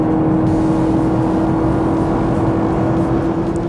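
A Toyota Vios GR race car engine pulls hard under acceleration, a loud, steady, close drone that holds for the whole stretch with no talking.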